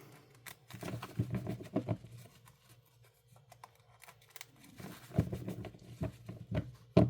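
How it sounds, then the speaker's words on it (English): A Magic: The Gathering deck in bright pink plastic sleeves being shuffled by hand, with soft close bursts of riffling and sliding card clatter in two groups separated by a quiet pause. "The deck shuffled up here."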